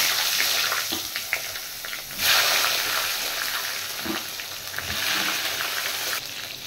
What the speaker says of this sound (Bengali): এবার বেগুন কেটে নিয়েছি, বেগুনগুলো ভেজে নেব